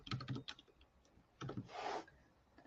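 Bursts of keystrokes clatter on a computer keyboard, with quick clustered taps, a pause, then another run of typing, close and moderately quiet with no talk.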